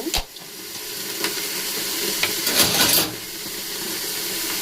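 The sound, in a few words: vegetables frying covered on medium-low flame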